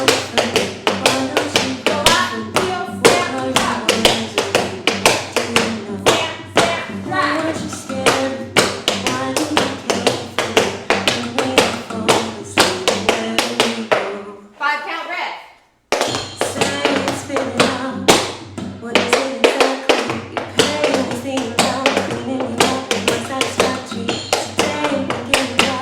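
Tap dancing shoes strike a floor in rapid rhythmic patterns during a beginner routine to music. The crisp, near taps carry on steadily, broken by a brief quiet gap midway.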